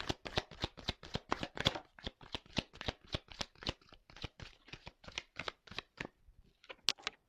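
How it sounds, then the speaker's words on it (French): Tarot cards shuffled by hand in a steady run of crisp riffling bursts, close up and fairly quiet, with a brief pause near the end before a few more shuffles. "je prends les cartes"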